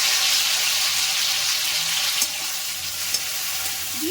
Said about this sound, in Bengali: এবার আমি এতে টমেটো আর কাঁচা লঙ্কা বেটে রেখেছিলাম ওই পেস্টটা দিয়ে দিচ্ছি